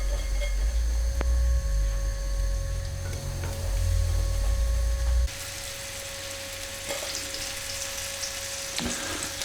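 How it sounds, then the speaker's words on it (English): Beef frying in oil for a slow-cooked French-style red wine casserole, with a steady sizzle and crackle that runs loud at first and then settles to a lighter hiss halfway through. "we just take this beef and we're going to fry it in the oil"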